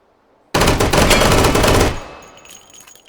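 A Scalpel-LE firing fully automatic in the VR shooter Hot Dogs, Horseshoes and Hand Grenades: a loud, dense burst of rapid shots lasting about a second and a half, then a fading ringing tail.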